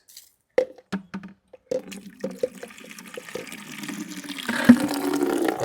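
Water gushes steadily from a tap after a few short knocks and splashes, growing fuller and louder toward the end.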